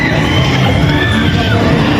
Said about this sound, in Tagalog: Dito na maririnig yung sigaw ng dalawa kong kasama, guys.